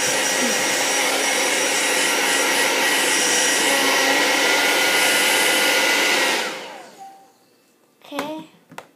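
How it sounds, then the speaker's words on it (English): A hair dryer blows on a sheet of wet handmade paper with a loud, steady whooshing roar for about six seconds, then cuts off and spins down, followed by a brief voice. "You're going to start blowing drying it like that."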